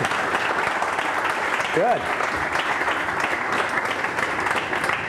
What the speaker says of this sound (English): I think that answer requires an applause.